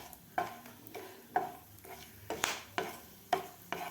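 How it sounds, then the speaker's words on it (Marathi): Whole spices, including four or five cloves, sautéing briefly in oil for a restaurant-style veg Kolhapuri, with a spoon scraping the pan in several sharp, evenly spaced strokes over a faint, steady sizzle, close and alone. "आता आपले मसाले थोडेसे तेलामध्ये परतून घ्यायचे आहेत"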